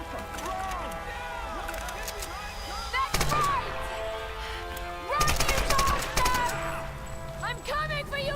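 Sustained machine-gun fire in the Tomb Raider video game, from a World War II machine gun converted into an AK, rattling loudly and continuously with heavier bursts, over a busy game soundscape with talking.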